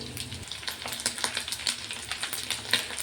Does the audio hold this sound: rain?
no